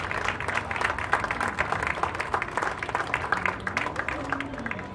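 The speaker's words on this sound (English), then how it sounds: "So let's give a round of applause." Conference audience giving a round of applause, dense continuous clapping from a sizable crowd at moderate volume, with a faint voice murmuring underneath toward the end.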